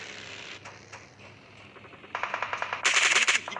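Rapid bursts of automatic gunfire from a PUBG Mobile match rattle in quick succession, starting faint and growing louder and denser toward the end, with a commentator speaking underneath.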